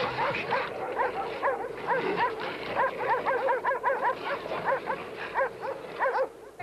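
Dogs in old archive footage from Yugoslavia barking and yelping rapidly while fighting wolves, a dense continuous flurry of snarls and yips at moderate distance with no talk.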